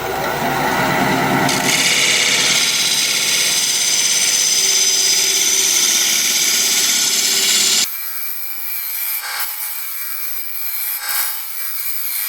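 Sharpening a woodturning tool gives a loud, continuous grinding hiss that runs for several seconds and cuts off abruptly, leaving a quieter hum with a couple of brief scraping bursts.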